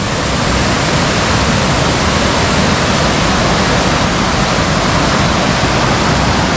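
Creek water flowing over a causeway on the Goldfield Track in tropical north Queensland, a loud, steady rushing roar close by, with no talking.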